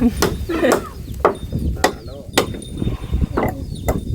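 Hammer blows land at irregular intervals, about eight sharp knocks, while a floor is being laid in front of a house, with a busy outdoor background of clatter and faint voices.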